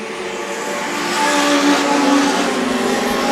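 Legend cars racing down the back straight of an oval track, a dense loud engine roar of several cars that swells as the pack passes close by.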